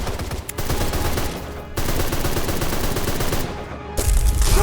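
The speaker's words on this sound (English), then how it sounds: "Quatermain, shoot the ceiling!" Rapid automatic gunfire in the 2013 video game Deadfall Adventures, shooting at a ceiling, loud close bursts that pause briefly twice before resuming, ending in a heavier low rumble.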